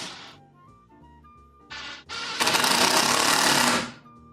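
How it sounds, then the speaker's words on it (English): An impact driver sinking screws into a wooden table saw stand frame, short bursts and then a loud sustained rattling hammer for over a second, close and without talk. "So let's go ahead and get screws in."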